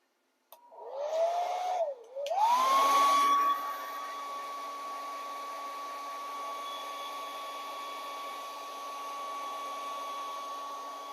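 A hair dryer switches on to dry wet paint on a painting, briefly dipping and restarting before settling into a steady, close whine with a constant tone.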